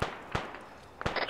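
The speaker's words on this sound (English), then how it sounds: "Taking shots west" Arma 3 gunfire cracks out as a few sharp, separated shots, some close and punchy, others thinner, with a brief electronic blip at the end and no speech.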